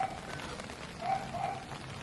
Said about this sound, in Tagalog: pumapatak na ang ulan pero ambon pa lang to